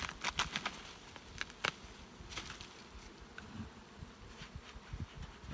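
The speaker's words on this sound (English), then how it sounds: "These guys are right full of bees," Honeybees buzz softly and steadily inside an open, crowded hive, with scattered faint clicks and taps around them; the humming stays low and close throughout.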